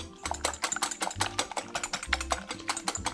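Eggs whisked by hand in a bowl for muffin batter, a fast, steady series of close, sharp taps against the bowl, with no talk.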